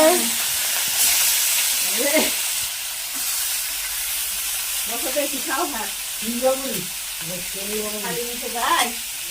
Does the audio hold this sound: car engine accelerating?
no